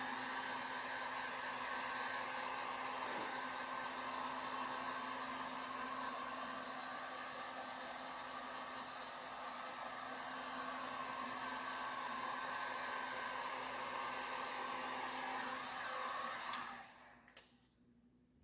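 Heat gun blowing a steady, broad hiss of hot air while warming carbon-look vinyl wrap on the lower door of a 1966 Chevy Nova, running close and unbroken before cutting off near the end.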